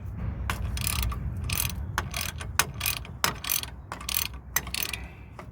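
A ratchet clicks in repeated quick bursts, turning a caliper bracket bolt off the front brake of a 2005 Chevy, close and fairly loud, with no voices.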